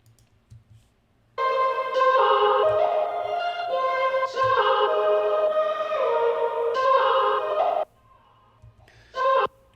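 A sung dub vocal phrase drenched in reverb and echoing delay, sustained for several seconds, then a short repeated tail fragment after a pause.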